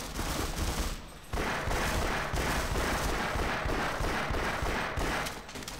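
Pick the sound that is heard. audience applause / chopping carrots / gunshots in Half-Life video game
gunshots in Half-Life video game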